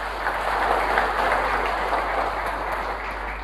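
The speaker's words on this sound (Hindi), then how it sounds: "इनके लिए एक बार जोरदार तालियां" An indoor audience gives a round of enthusiastic applause at a live product demo, dense and steady clapping lasting throughout.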